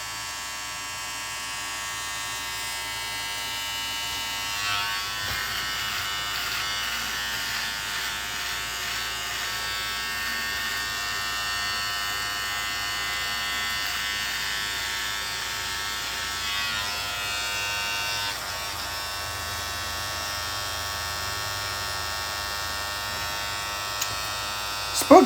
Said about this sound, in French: Bon, je vais me raser la moustache au complet, là.